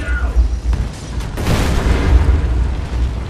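A grenade goes off in the video game Army of Two: The Devil's Cartel, a heavy booming blast with a rumbling tail amid game noise, loud and near, with a brief sharper burst partway through.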